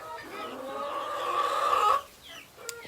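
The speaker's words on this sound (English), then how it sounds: "She's a silky hen." Rita, a black Silkie hen on a farm, gives a drawn-out, rising clucking call lasting about two seconds, close and fairly clear, followed by a brief soft sound.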